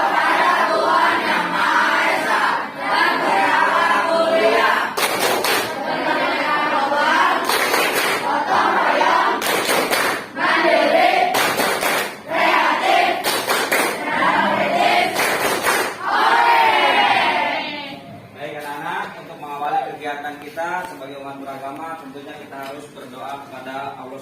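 Elementary school pupils in a classroom perform a loud rhythmic clap chant, shouted words punctuated by sharp unison claps at regular beats, ending as the room quiets and a single voice speaks.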